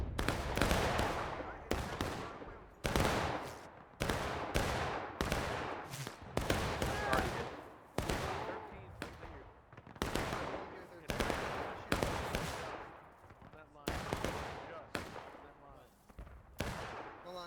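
Rifle volleys and scattered musket shots ring out in a War of Rights historical skirmish at East Woods, a dozen or so sharp cracks with ringing tails, some close and loud, others overlapping, with voices calling out between them.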